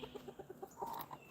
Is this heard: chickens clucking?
yes